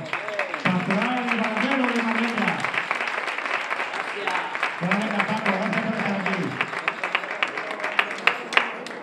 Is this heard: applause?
yes